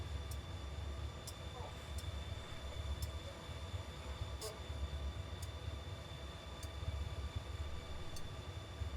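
A Union Pacific GP50 diesel locomotive in Train Simulator on Donner Pass, its engine giving a steady low drone under faint ticking and clicks, with someone talking in the background.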